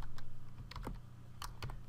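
Typing on a computer keyboard, a few quick key presses and clacks in irregular bursts, close and clear in a quiet room.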